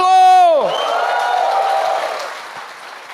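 A church congregation cheers and applauds together, a loud shout opening it before a sustained wash of clapping and crowd noise that slowly fades.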